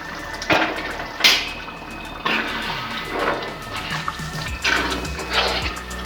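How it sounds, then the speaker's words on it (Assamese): Water is poured into fish curry frying in a pan, with bursts of loud hissing and sizzling that rise and fade several times at close range. "এতিয়া মই পানী অকণমান দি দিছোঁ।"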